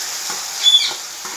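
Tamtum tipped into a pan of frying onions and tomatoes, a steady faint sizzle with a brief louder rush of hissing as it lands, then soft scraping stirs.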